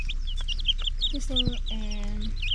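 Young month-old chickens cluck and chirp in a repeated, close, moderately loud chorus, with one longer call standing out near the middle over a steady low rumble of background noise.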